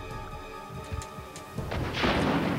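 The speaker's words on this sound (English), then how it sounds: "Give me the goddamn rocket launcher!" A rocket launcher fires in the PS1 Resident Evil: Director's Cut, with a heavy boom and crash rising near the end over game music, loud and close, with no talk.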